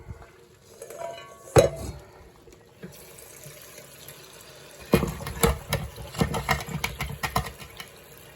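Soaked beans get rinsed under a kitchen tap, with a clink of a pot, then running water splashing and rattling the beans in a bowl for several seconds at close range.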